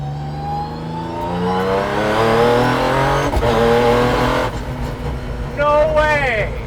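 A 600 hp, 2,400 lb 1971 Datsun 240Z accelerates hard through the gears at a Z-Con event, its engine roaring up in pitch, dropping on a shift and climbing again, heard from inside the car with voices underneath.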